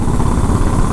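Motorcycle engine running with a 2-into-1 Supertrap aftermarket exhaust, a loud, close, steady rumbling idle with dense low throb and no speech.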